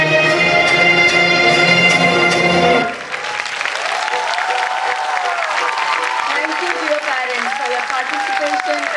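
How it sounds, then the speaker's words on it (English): Audience applause in an auditorium after a pre-primary school annual programme, steady clapping from a large crowd that follows the end of loud music and continues with some talk mixed in. "let's clap for them and encourage them for their participation"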